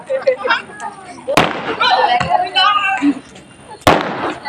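Sharp firecracker bangs at a children's Ravana effigy burning for Dussehra in a Punjab village, one loud burst followed by another a few seconds later, with people talking and shouting throughout.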